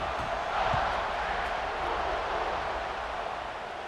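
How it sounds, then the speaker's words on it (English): A stadium crowd buzzing in College Football 26, a steady, distant murmur of many voices with a slight swell early on, moderately quiet and continuous. "this crowd is buzzing after that last score"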